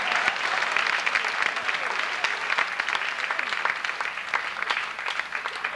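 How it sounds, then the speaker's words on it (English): Sustained audience applause at a Universal Studios show, dense clapping from many hands at a steady loud level for several seconds. "Give a nice round of applause, folks."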